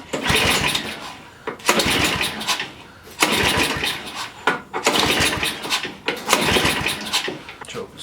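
A $50 snow blower engine is pull started with several rapid, loud cranking bursts in a row, each pull followed by a brief pause before the next, with no voice heard.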